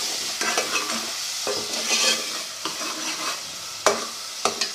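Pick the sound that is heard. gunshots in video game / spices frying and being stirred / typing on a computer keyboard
spices frying and being stirred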